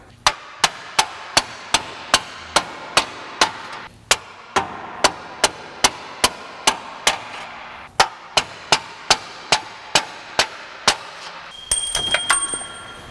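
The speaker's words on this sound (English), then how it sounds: "I'll just get the hammer." A hammer knocks on bolts during a Nissan 2.5L engine timing chain repair, about two dozen sharp metallic strikes at a steady, close rhythm, with a brief pause midway and a faint tonal ring at the end.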